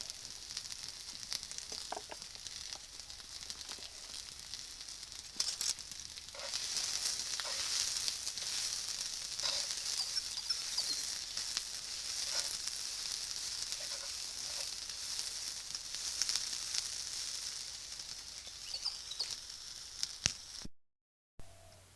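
Cabbage, capsicum and garlic sizzle steadily in a pan over a woodgas stove, a constant bright hiss with faint crackles and occasional stirring clicks throughout, cutting off abruptly near the end.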